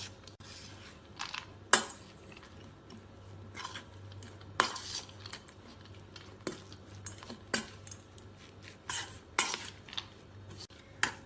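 A spoon stirring kosambari salad with grated coconut and salt in a metal bowl gives sharp, irregular clinks and scrapes at close range, spaced a second or two apart over a quiet background.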